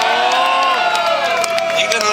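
A concert audience on a river steamboat applauding and cheering a gold record presentation to a band, a continuous loud crowd roar of clapping and shouts with music tones underneath.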